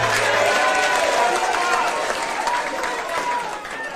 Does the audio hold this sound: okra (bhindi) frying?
no